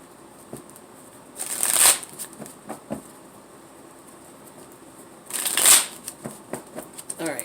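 Tarot cards are shuffled in two separate bursts of riffling, each a quick rush of paper flutter, with quiet pauses in between and no talking.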